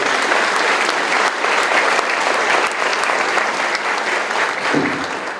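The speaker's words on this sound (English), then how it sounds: "Round of applause for everybody." Breakfast event audience bursts into loud, sustained applause, a thick roar of many clapping hands with small surges, fading a little near the close.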